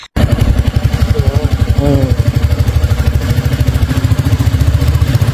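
Royal Enfield motorcycle engine running steadily during a long highway ride, a close, loud single-cylinder thump with a rapid, even beat that continues throughout after a brief quiet start.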